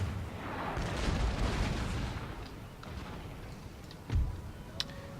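Cannon artillery fire in Empire Total War during a battle at Brandywine, heard as a rumbling barrage of booms, with a sharp near blast near the end and a small crack after it.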